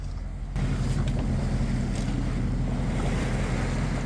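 Sea water rushing and splashing around a moving boat rounding St Alban's Head in fog, a steady loud wash with wind noise that jumps up abruptly after a quieter opening moment.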